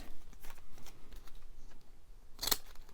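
Fancy decorative-edge scissors snip through paper while making junk journal ephemera, a string of quiet crisp cuts with a sharper, louder snip near the end.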